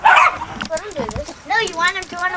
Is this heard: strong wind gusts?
no